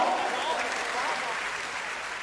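An audience at a Hindi poetry and song gathering gives loud, steady applause, a dense wash of clapping that holds evenly for a couple of seconds.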